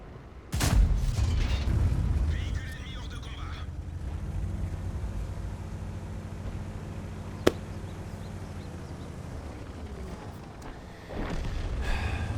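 Heavy AMX Foch 155 artillery shot in World of Tanks, a deep booming blast near the start followed by a sustained low engine rumble and a sharp click midway.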